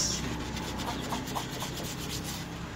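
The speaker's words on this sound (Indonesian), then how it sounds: "Kemudian di sini dalam ini tukang amplas." Sandpaper rubbed by hand over the body of a Suzuki Jimny Katana being prepared for repainting, a steady close scratchy rasp with repeated back-and-forth strokes and no talking.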